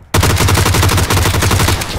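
Fast automatic gunfire in PUBG, one loud close burst of rapid rounds firing in an even, rattling rhythm for about two seconds after a sudden start.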